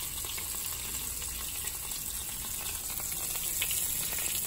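Battered grouper fillets sizzle and crackle steadily in a pan of butter and olive oil, a dense, continuous frying hiss heard close up with no talking.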